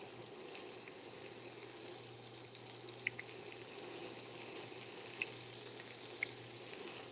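Shelled shrimp fry quietly in a pan, a soft steady sizzle with a low hum underneath and a few faint clicks, no voices.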